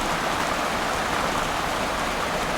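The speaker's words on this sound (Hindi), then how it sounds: "बारिश और तेज हो गई" Heavy rain pours steadily and evenly, a dense close hiss of drops with no pauses, loud throughout and with no voices.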